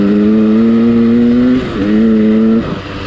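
A KTM 200 two-stroke motorcycle engine revs loudly and close, holding a steady high pitch, briefly dropping, then climbing again before easing off; the motor sounds as if it bogs at the top end.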